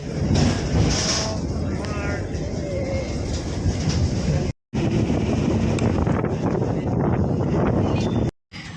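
Riding inside a moving non-stop bus: a continuous low rumble with wind buffeting the microphone and faint indistinct voices. The sound drops out briefly twice.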